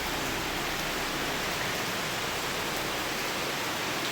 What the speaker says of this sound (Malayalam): അടിപൊളി മഴയാണ്. സൗണ്ട് കേൾക്കുന്നുണ്ടോ?